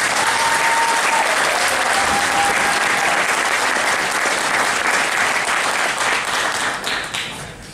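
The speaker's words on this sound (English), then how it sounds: "Let's give them all a big round of applause." Sustained, dense applause from a concert audience after a high school band's winter holiday concert, loud and steady throughout, tapering slightly at the very end.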